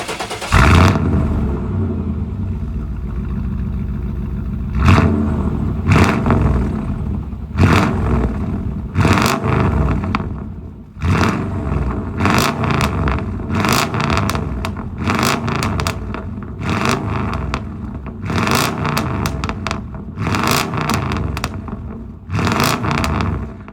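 Classic car running close by, a loud engine that blips and revs in repeated bursts with crackling pops between them, going on for a while with no one speaking.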